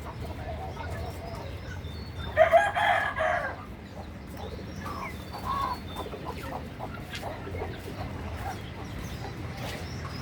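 Rooftop chickens cluck steadily, with one loud burst of crowing or squawking from a rooster early on before the flock settles back into low, continuous clucking and rustling.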